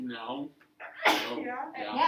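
A single sharp sneeze bursts out between short bits of conversation, close and loud.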